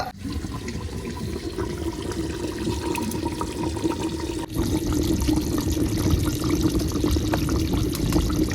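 Oil being poured steadily while frying in a home kitchen, a continuous liquid splashing and sizzling wash that grows a little louder midway and runs without pause.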